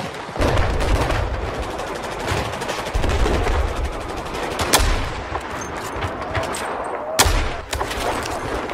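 Rapid gunfire in Battlefield 4 cracks out in dense bursts, with heavy booming shots and sharp reports layered over a constant rumbling battlefield din, loud and close throughout.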